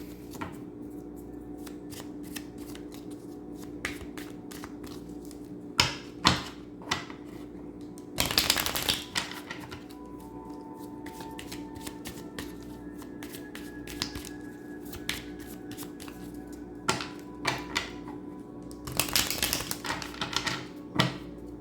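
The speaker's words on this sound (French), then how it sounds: "Je vais vous tirer une carte du tarot de la nuit" Tarot cards being shuffled close up, with crisp riffling bursts and flicking taps spread through the stretch and a low steady hum beneath.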